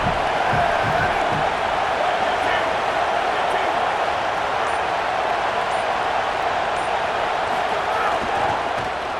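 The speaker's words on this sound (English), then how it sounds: "how nice is it to have the home crowd going absolutely bananas?" Steady roar of a home crowd at a college football game in EA Sports College Football 27, a loud, continuous wash of cheering that holds unbroken throughout.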